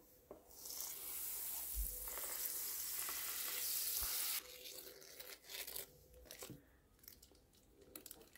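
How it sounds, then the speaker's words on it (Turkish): Butter hits a hot frying pan with a bright, hissing sizzle that builds and holds for a few seconds, then softens into quieter crackling with scattered clicks and light handling noises, close but low in level. "Tavama biraz tereyağı döküyorum."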